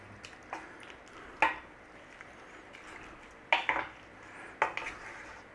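A bay leaf, cloves and malt vinegar get stirred in a pot, with a spoon clinking and scraping against the metal in a few sharp, separate knocks over a quiet background.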